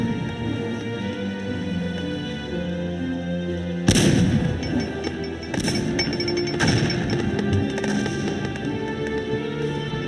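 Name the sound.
artillery fire in the video game Cossacks 2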